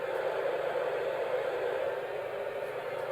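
Steady, even hiss of white noise from a Sharper Image sleep machine, constant and unbroken throughout, with no voices.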